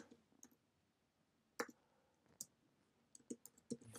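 Sparse, quiet keystrokes on a computer keyboard while code is written in a Swift editor: isolated crisp taps with long pauses between them, then a short cluster of clicks near the end.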